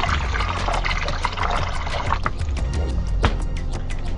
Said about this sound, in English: Pay very close attention to where you pour in the water